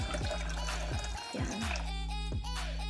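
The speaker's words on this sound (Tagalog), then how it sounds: "Then, maglagay tayo ng tubig dito." Water poured into a coffee maker's reservoir, a steady filling pour with gurgling, shifting pitch, close and fairly loud, alone without talk.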